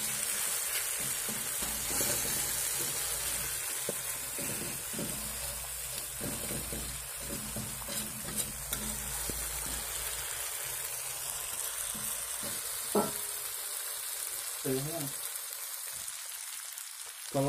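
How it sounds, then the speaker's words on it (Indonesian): Seblak spices stir-frying in a pan, giving a soft, steady sizzle with faint scraping from the stirring and a few light clinks, all at low volume and without talk. "Jangan lupa diaduk-aduk ya, teman-teman. Tumis sampai mengeluarkan harum."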